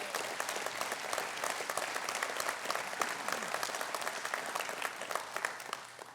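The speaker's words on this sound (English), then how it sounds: "please, ladies and gentlemen, a nice round of applause for them" Sustained audience applause at a town State of the Town address for municipal employees, dense steady clapping filling the room from start to finish with no speech over it.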